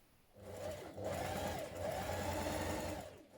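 A sewing machine runs in two or three steady bursts, stitching a pocket piece onto a trouser piece of a pair of dungarees, a close, even mechanical whirr with brief pauses between runs.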